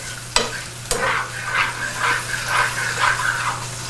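Fried pork cracklings being scraped from a skillet into a pot in a home kitchen: two sharp metal knocks, then repeated gritty scraping strokes over a soft sizzle, close and fairly loud, no voices.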